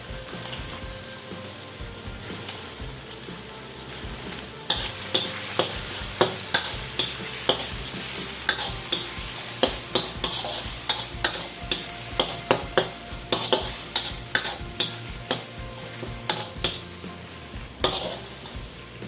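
Vegetables with chili, red bell pepper and shrimp paste sizzle in a hot pan. Steady frying continues while a utensil scrapes and stirs in quick repeated strokes that grow busier partway through.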